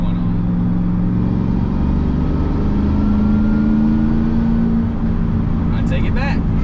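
A high-mileage truck accelerates gently in third gear, its engine holding a steady, loud drone with a low rising tone throughout, close to the cab and without talk.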